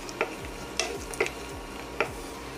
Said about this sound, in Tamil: நெய் உருகுனதும் நம்ம வச்சுருந்த பட்டை, ஏலக்காய், அதுக்கப்புறம் முந்திரி, திராட்சை இது எல்லாத்தையுமே நல்லா வந்து ஃப்ரை பண்ணி எடுத்துக்கோங்க.